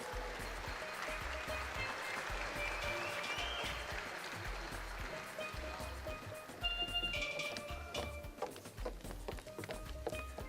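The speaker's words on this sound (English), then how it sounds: "give them another round of applause" Sustained audience applause fills a hall at the Trinidad and Tobago Ball 2023, honoring a 98-year-old guest: a dense, steady wash of many hands clapping that swells slightly near the end, with no talking over it.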